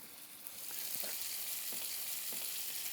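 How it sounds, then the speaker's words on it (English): Meat sizzling in an oiled pan, a loud, even crackling hiss that swells after a brief start and holds steady, with a few soft stirring clicks. "Let's see if we're going to get a sizzle."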